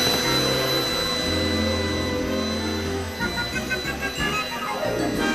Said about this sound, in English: the vacuum cleaner shouldn't break or suck up anything it's not supposed to